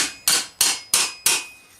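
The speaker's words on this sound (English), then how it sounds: "Now previously I used this hammer for the crease." A hammer strikes metal armour while a flute is shaped into it: four sharp, evenly spaced, ringing blows, close and clear, each dying away quickly.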